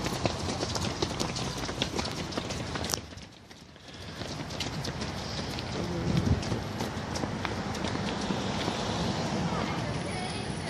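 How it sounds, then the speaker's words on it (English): Many rapid footsteps stomp and patter as high school kids run past nearby, over a busy, noisy outdoor background with a brief lull partway through. "You hear all those stomping, it was high school kids running by me."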